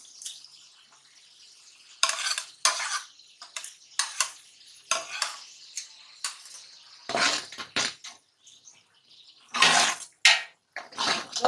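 A spoon scrapes and stirs crushed garlic, ginger, green chilies and whole coriander roasting with onions in a pan, in loud, irregular bursts of scraping and clatter over a faint sizzle.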